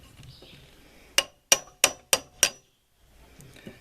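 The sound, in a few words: chisel cutting wood fibre in a notch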